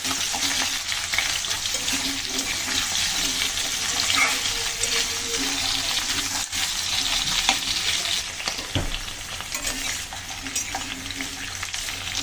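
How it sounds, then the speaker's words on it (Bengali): Potatoes, spiny gourd and pointed gourd fry in a pan, a steady close hiss of sizzling oil with occasional stirring scrapes throughout. "এখন দিয়ে দিচ্ছি কাঁকরোল, পটল, আবার ভালো করে ভেজে নেব।"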